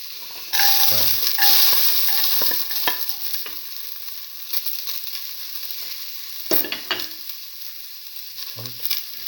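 Garlic sizzles steadily in a hot pan while a utensil stirs and scrapes it in irregular strokes, the frying hiss continuous and fairly close.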